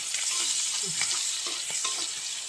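Sliced onions sizzle and fry in hot oil in a pan, with turmeric and prawns added, giving a steady close crackle and occasional stirring scrapes, with no voices.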